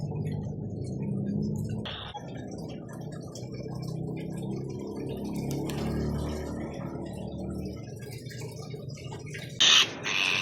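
Rescued birds give two short, high chirps, one early and one at the very end, over a steady low indoor hum.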